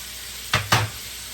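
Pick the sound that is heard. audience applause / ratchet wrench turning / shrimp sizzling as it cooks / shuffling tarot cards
shrimp sizzling as it cooks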